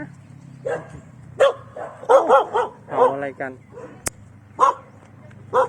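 A dog barks repeatedly in short yips and woofs at a Yi Peng lantern festival in Chiang Mai, fairly close, while people talk in between the barks.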